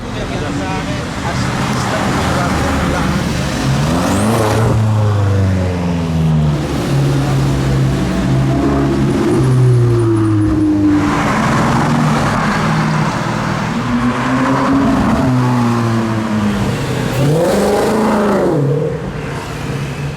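Aston Martin Vanquish and McLaren LT supercars drive through town toward the Top Marques Monaco paddock, engine drone steady and loud throughout with shifting revs, under a person talking.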